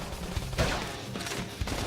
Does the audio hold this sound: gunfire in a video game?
yes